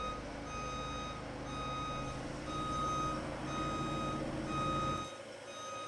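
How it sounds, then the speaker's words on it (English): A boat lift at a ramp during a sprint boat racing event gives a steady series of evenly spaced electronic beeps as it moves up and down, heard at moderate distance over outdoor background noise with no talk. "that sound you hear, that is the lift that goes up and down, the beep"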